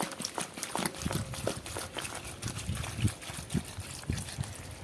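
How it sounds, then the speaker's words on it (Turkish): Water is poured into a jar of mixed winter pickles until it is full, a close, continuous bubbling trickle with irregular gurgles and splashes, and no one speaking. "Şöyle suyumuzu alıyoruz ve suyumuzu aldığı kadar dolana kadar"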